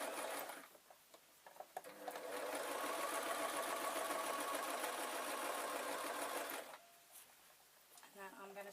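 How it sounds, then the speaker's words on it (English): Sewing machine stitching a travel pillow runs in one steady, loud burst of several seconds, with quieter handling and fabric noises before and after. "And I'm going to start sewing."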